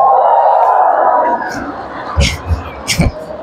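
A church congregation erupts in loud shouts and whoops, a brief swell of crowd voices that fades, followed by a few sharp bursts of cheering.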